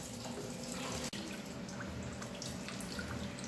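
Coolant draining from a 1952 Ferguson TEA tractor: a steady, close, even splashing trickle of liquid runs throughout with no pauses and no voices.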